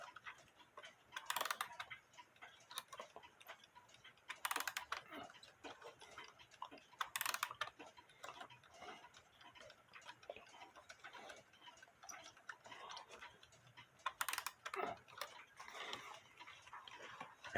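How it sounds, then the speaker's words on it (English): An antique Jerome & Co alarm clock made by the New Haven Clock Co around 1905 ticks steadily and faintly at close range, a quiet even rhythm with a few louder clicks scattered through. "As you can see, it's ticking away."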